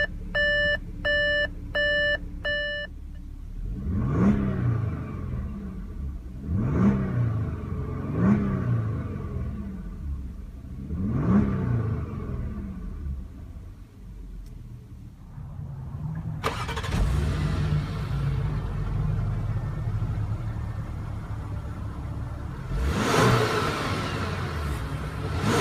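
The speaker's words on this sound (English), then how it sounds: "push the start button located on the center console once to start" A 2016 Audi A7 Prestige S Line started by its push button: electronic chimes first, then the engine blips through four rising revs before settling into a fuller, steady idle rumble with another surge near the end.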